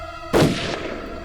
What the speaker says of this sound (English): Then there was another gunshot